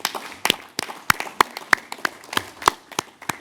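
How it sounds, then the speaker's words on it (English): Scattered audience clapping at an African climate adaptation summit, a thin set of sharp separate claps spread irregularly over a few seconds in a large room. "Alok, you deserve a round of applause because it was in Glasgow"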